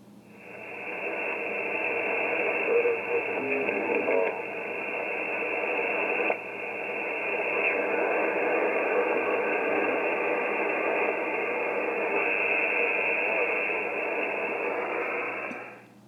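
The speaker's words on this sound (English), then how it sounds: "It's a bit abstract, that one. Just sounds like interference to me." Shortwave radio interference picked up on 14106 kHz upper sideband: a dense, steady wash of hiss and static with faint ticks, holding at an even level throughout with no clear voice.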